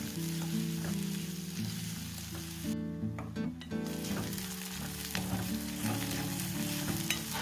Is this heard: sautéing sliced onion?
yes